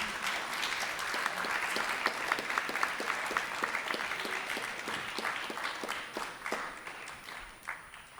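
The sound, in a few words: audience applause after a presidential debate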